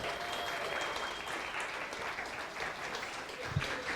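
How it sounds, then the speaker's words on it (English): Steady applause from a live audience welcoming a speaker to the microphone fills the whole stretch, dense and even, with a faint thump near the end. "put your hands together as we welcome Derek Baker from Relish to the microphone"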